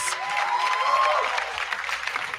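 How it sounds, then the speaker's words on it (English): An audience at a celebrity interview breaks into a round of applause, a broad, steady patter of clapping with a faint tonal hum beneath, fairly loud and sustained without talk. "can we have a big round of applause?"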